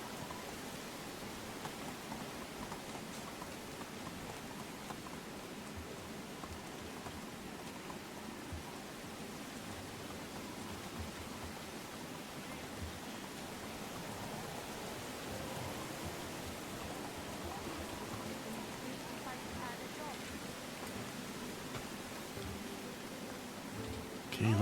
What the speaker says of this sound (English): Getting a little bit tired of the rain.